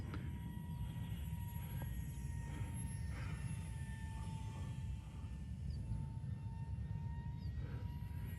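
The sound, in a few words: micro RC F-16 model jet flying at full throttle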